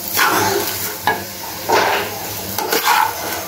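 Rice fried with onion and chili is stirred in a hot wok, a spatula scraping in several distinct strokes over a continuous sizzle, close and fairly loud with no talking.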